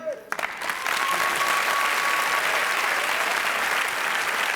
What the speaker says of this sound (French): Je voudrais que vous applaudissiez très très fort tous les artistes qui passent sur cette scène